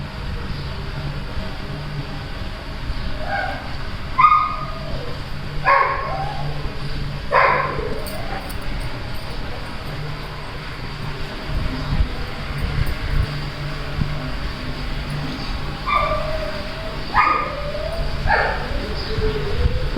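A tied-up guard dog barks and yips in short bursts at a distance, several separate calls spread over the stretch against steady low background hum.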